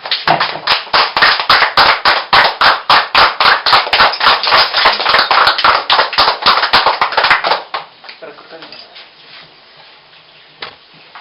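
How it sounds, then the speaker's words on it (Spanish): A church congregation claps together in a fast, even rhythm for about seven seconds, loud and close, before the clapping breaks off into a few scattered claps and quiet room noise. "vamos a dar un fuerte aplauso al Señor"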